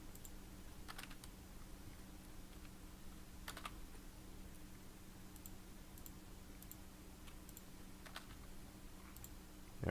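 Computer keyboard typing in a Paint.NET editing session, a steady run of faint, quiet clicks and keystrokes with small bursts over a low hum, no voices.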